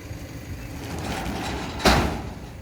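A door is shut hard, giving a single sharp bang near the end over steady background noise, with no talk.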